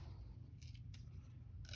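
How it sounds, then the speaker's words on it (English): A pair of scissors snips through paper in a few quick, crisp cuts spaced unevenly, close and fairly quiet over a low background hum. "you can cut it with a pair of scissors"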